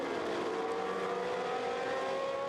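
A high-pitched historic Formula One Brabham race car engine screams steadily at sustained revs during an FIA Masters Historic Formula One race, loud and continuous with a raw, buzzing edge.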